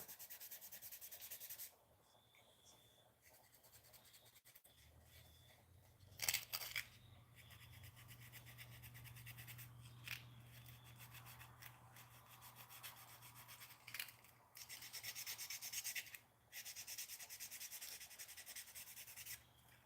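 Steady scrubbing and sanding strokes on a fishing lure cleaned with airbrush paint cleaner, close and fairly quiet, with sharper rubbing bursts and a low hum running underneath; no talking.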